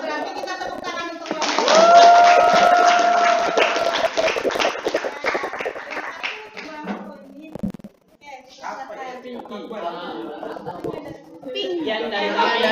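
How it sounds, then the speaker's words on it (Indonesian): A university class clapping hands after a student presentation, a loud burst of mixed claps that fades into scattered taps and chatter, with a voice and children's speech audible over it. "kalau nggak usah berarti kita tepuk tangan untuk"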